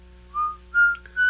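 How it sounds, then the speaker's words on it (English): A person whistles loudly in three short, shrill bursts, each rising to a bright piercing tone, with brief pauses between them and no talking. "I can also whistle where you can hear me 2 blocks away."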